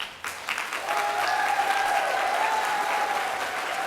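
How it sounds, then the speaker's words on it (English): Sustained audience applause from a crowd at an economic justice summit, steady and fairly loud for several seconds after a brief quieter start, with no speech over it. "and so all of you start clapping."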